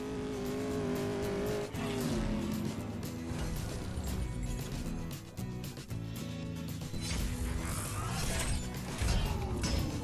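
Racing car engines in the CSR2 mobile drag-racing game roar loudly and continuously, with dense layered revving and occasional mechanical clunks and skids throughout, and no talking.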